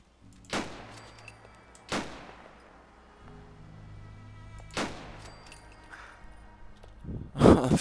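Gunshots in Fallout 4 with a combat mod, three sharp separate reports spaced a second or more apart, each with a short decaying tail, then a louder burst near the end over a quiet background.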